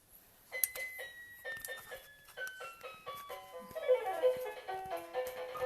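Melodic chime-like music plays in the background of a classroom, a steady run of bright bell tones stepping downward before busier, denser notes take over, moderately loud and with no talking over it.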